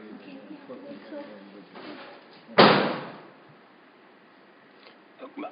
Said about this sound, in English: All right, kick the door shut.